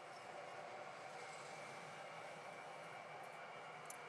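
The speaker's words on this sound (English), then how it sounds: "Boy, the trains, I can really hear them." A model train with an RSD diesel locomotive runs on a layout, giving a steady, faint rolling rumble and hiss that stays even throughout, with no talk over it.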